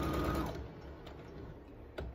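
A sewing machine stitches a fabric wallet, running briefly and quietly at close range with a soft mechanical whir and a faint click near the end.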